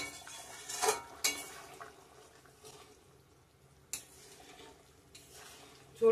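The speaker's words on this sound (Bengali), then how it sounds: "ঝোলটা ফুটিয়ে নিচ্ছি ভালো করে," Gravy simmering in a cooking pot with potatoes already boiled, a steady low bubbling and sizzle broken by a few sharp metallic clinks of a spoon against the pot, close and moderately quiet, no talking.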